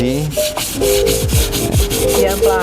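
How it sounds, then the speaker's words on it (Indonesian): Steady back-and-forth scraping of 240-grit sandpaper rubbing hardened body filler, rhythmic strokes, close and loud, no voices. "proses pengamplasan nih"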